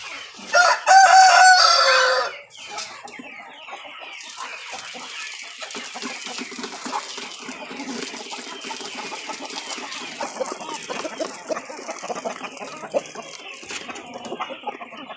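Goliath chickens in a poultry coop: a loud rooster crow up close at the start, then continuous clucking and chatter from the flock over a quieter background.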